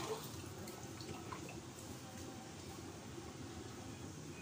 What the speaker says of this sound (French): Je vais renverser de l'eau.